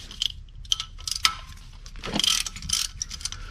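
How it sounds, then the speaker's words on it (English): Ratchet backing out 15 mm transmission pan bolts under a Saturn, quick faint clicking bursts of the pawl in short uneven runs, close by. "Across the back of the pan, we got three bolts here. They are 15 millimeter."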